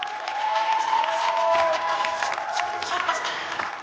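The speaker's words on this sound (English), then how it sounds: "A big round of applause for the Rangers Aliens." An audience at a preschool performance breaks into steady applause and cheering, a dense wash of clapping with scattered shouts and whoops carrying throughout, fairly loud and close.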